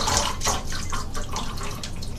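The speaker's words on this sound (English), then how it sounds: "So then when you drain it out," Water drains out of a basin after steam treating braids, a steady close gurgling trickle with soft splashes, murky with oil and suds.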